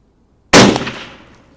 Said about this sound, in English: So let's fire a few more rounds and see how it performs.